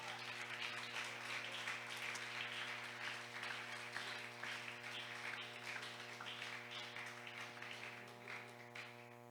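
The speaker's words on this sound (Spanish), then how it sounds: "¿Alguien puede aplaudir al Señor esta noche?" A church congregation applauds during an evening service, a faint, steady wash of many hands clapping that holds for several seconds over a constant tonal hum.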